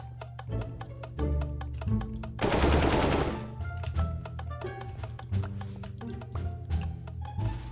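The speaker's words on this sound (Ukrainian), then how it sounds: "Постріл!" Rapid bursts of gunfire crackle over a steady rhythmic electronic backing, with one loud sustained volley in the middle before scattered shots resume.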